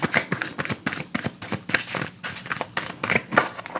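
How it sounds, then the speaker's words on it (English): A deck of oracle cards is shuffled nearby in quick, crisp riffles and soft flutters, a rapid run of papery slaps and rustles before cards are pulled. "I am going to pull 2 final oracle cards"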